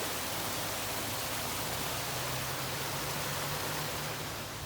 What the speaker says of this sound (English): A waterfall running down there